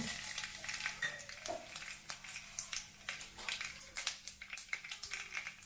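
Cumin and mustard seeds, with a few curry leaves, sizzle in a small amount of hot oil for a North Karnataka brinjal curry, crackling in quick, close, repeated pops over a constant frying hiss.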